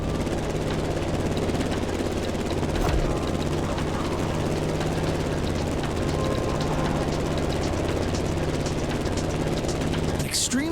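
A propeller plane in flight in the racing game The Crew Motorfest, its engine a steady loud drone throughout with a brief swoosh near the end.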